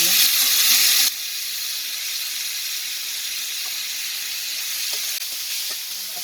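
Ginger-garlic paste and tomato fry in a pan for chicken gravy, giving a bright, loud sizzle at first that drops to a steadier, quieter hiss, with a few light stirring clicks.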